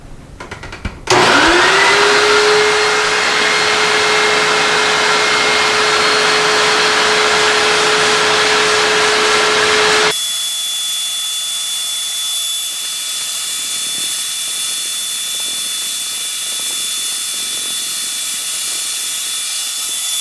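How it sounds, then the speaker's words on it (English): A vacuum runs during drywall repair, switching on abruptly and roaring loud and steady with a rising whine, then dropping to a quieter constant hum with a thin high tone for the remaining half. "It's going to be a little noisy because I'm going to have the vacuum on"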